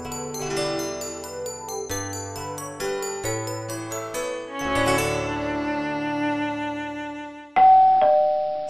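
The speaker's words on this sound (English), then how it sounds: "Suddenly the doorbell rang." Near the end a house doorbell rings with a clear, bright two-tone chime. Before it comes a passage of gentle melodic background music, and no one speaks.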